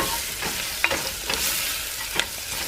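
Granulated garlic being stirred into browned broken spaghetti in a pan, a steady sizzle broken by a few scraping stirs.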